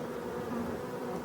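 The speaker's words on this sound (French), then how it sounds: "On peut voir que c'est encore une belle abeille noire." Steady, dense buzzing of a swarm of black honey bees that fell into nettles in the evening, a continuous close hum filling the whole moment with no voices.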